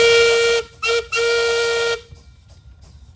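A loud, sustained steam engine whistle blows in three blasts, two short toots then a longer held one, before fading into quiet outdoor background at a steam show in Halltown, Missouri.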